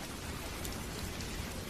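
Heavy pouring rain on a stormy night by a river bridge, a dense, unbroken roar of downpour filling the whole short stretch without any voices or pauses.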